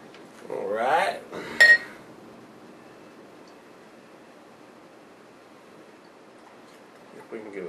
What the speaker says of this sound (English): If we can give us a little bit of a head in this glass.